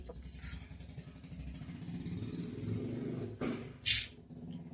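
A Royal Enfield Bullet motorcycle fitted with a loud aftermarket silencer thumps with a low, throbbing exhaust note a short distance away, steady and rumbling, with a couple of sharp knocks near the end.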